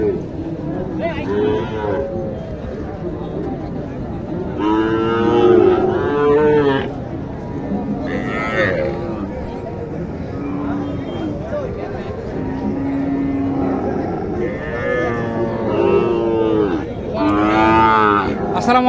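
Cattle moo repeatedly in a busy market, deep drawn-out calls rising over a constant background of crowd chatter and movement.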